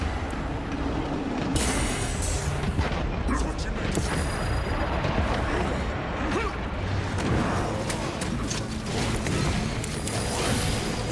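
A melter bomb detonates in Warhammer 40,000: Space Marine II amid dense battlefield noise, with heavy gunfire, crashing impacts and mechanical clatter blending into a loud, continuous din.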